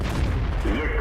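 A tank cannon fires in World of Tanks during a Tier 5 match with a KV-1, giving one heavy, close, low boom that fills the short moment.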